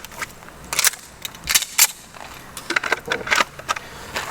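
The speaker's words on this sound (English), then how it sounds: "And then while I'm over here, I'll go ahead and make my pistol ready." Metallic clicks and snaps of a pistol being handled, readied and loaded at a 3-gun competition training range: a handful of sharp, close, irregular clacks spread over a few seconds with quiet handling noise between.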